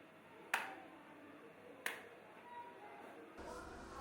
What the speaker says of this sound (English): Try to wake the baby by clapping